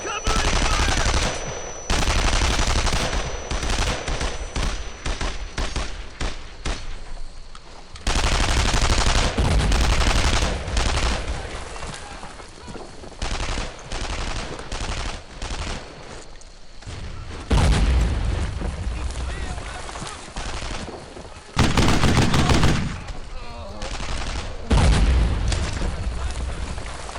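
Sustained bursts of rifle and machine-gun fire in World War II shooter Brothers in Arms: Earned in Blood, loud rattling volleys repeatedly starting and stopping over nearly half a minute, with occasional heavier booms among the shots.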